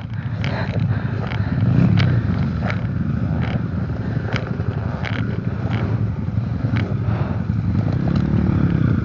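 A trail motorcycle engine drones steadily as it is ridden, close and fairly loud with wind buffeting the microphone and occasional rattling clatter, running continuously throughout.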